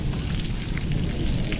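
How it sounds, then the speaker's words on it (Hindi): Heavy stormy rain pouring down outdoors during a thunderstorm, a steady dense roar with low rumble that stays loud and unbroken throughout, with no voices. "क्योंकि बारिश पै गई ना बहुत ज्यादा"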